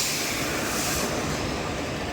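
The Visakha Express rolls into platform 3 at Nidadavolu Junction, a loud, dense, continuous rumble and rattle of wheels and carriages filling the whole span without pause.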